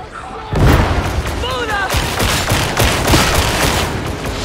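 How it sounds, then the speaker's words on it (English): Heavy gunfire in Warhammer 40,000: Darktide, a loud burst of booming shots that kicks in suddenly and rolls on in a dense, continuous barrage, with a voice briefly heard over it. "Oh, you hear some heavy ammo"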